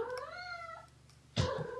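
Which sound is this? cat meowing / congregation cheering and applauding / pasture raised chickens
cat meowing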